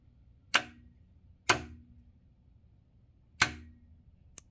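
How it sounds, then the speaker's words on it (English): Sharp, close clicks of a contact switch on an electric motor controller for an 8kW QS motor, three distinct snaps at uneven intervals over a quiet background hum. "Here's what your contact switch should sound like when you're powering it on and off."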